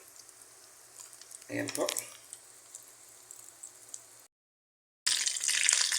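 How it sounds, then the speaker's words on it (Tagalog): Crispy tortang talong, an omelette of grilled eggplant, frying in hot oil: a burst of sizzling, a brief silence, then a loud, steady hiss. A voice speaks briefly. "atin na pong piniprito ang ating crispy tortang talong"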